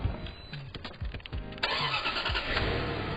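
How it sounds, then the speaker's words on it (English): A car engine cranks with several rhythmic starter pulses, then catches and settles into a steady running hum, heard up close with no talking. "I have started the car."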